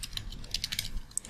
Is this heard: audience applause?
no